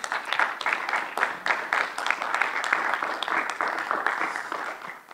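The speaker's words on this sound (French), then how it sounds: "Je vous remercie de les applaudir." Audience applause at a conference opening session, a steady, dense wash of many hands clapping throughout, moderately loud and close, with no talk over it.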